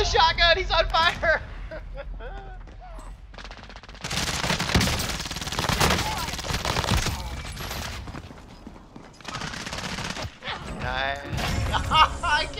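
Shotgun blasts and rapid gunfire in a multiplayer video game fight, bursts of shooting alternating with excited voices and game effects, loud and close with short pauses between volleys.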